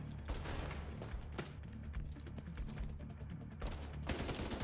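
Sustained gunfire in The Division 2 video game, a dense fusillade of overlapping machine-gun bursts and single shots that stays loud and busy throughout, with heavier volleys near the end.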